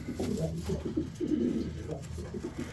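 A racing pigeon coos in its loft, a soft, low, rolling call repeated several times at moderate distance over faint background noise.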